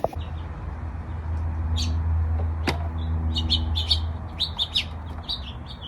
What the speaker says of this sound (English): what kind of bird, what species of bird is visiting your feeder